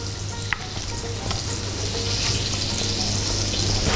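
Food sizzles loudly and steadily in a hot frying pan as it is pressed down and flipped, with a couple of soft utensil taps and no talking.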